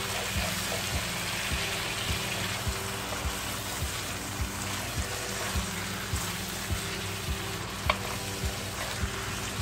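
Chicken and whipped yogurt stirred in a kadai, a steady sizzle with regular spoon scrapes every half second or so and a brief metallic clink near the end, with no talking.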